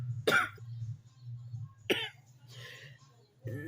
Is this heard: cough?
yes